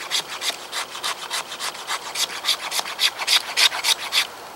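Wood is scraped on the ground over a board that collects shavings, about twenty quick rhythmic rasping strokes, close and loud with no talking.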